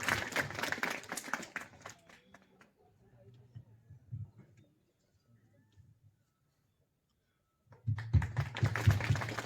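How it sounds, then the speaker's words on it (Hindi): Audience clapping at a student gathering where a gift is being presented: a burst of sharp claps at the start, a quieter stretch with low murmuring, then a second loud round of clapping near the end. "जोरदार तालियों से स्वागत कीजिए।"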